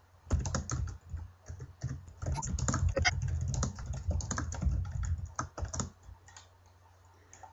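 Keyboard typing in bursts of rapid clicks with short pauses, close and fairly quiet, then trailing off to silence near the end.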